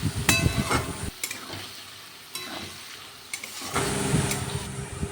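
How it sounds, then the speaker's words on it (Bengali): Spice paste frying in a pan for a prawn and mustard pabda fish dish, a close crackling sizzle broken by repeated scraping strokes of a spatula, no voices. "মশলা দিয়ে এখন ভালো মতন করে কষাবো।"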